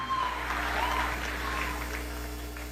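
Applause for teachers at a youth environmental conference in Brazil, a steady wash of clapping sustained at even strength throughout, with a faint hum beneath.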